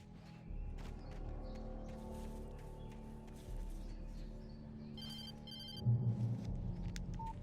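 A telephone rings in the video game Alan Wake Remastered, with repeated electronic trill bursts over a low, steady ambient hum and faint background noises.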